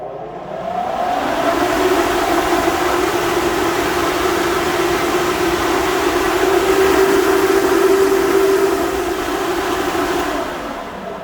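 A Vevor 12-inch 2300 CFM ventilation fan spins up into a loud, steady whoosh with a sustained motor hum, holding constant for several seconds before winding down at the end.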